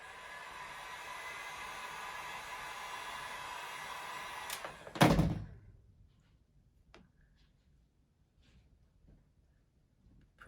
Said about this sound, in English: for these tighter little sections, we use heat to help it bend into those corners